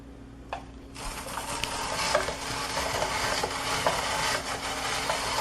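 An onion is fed through a Brieftons spiralizer with its curly blade, producing a steady close crunching, scraping cut with small clicks from the turning crank, heard alone after a brief quiet start.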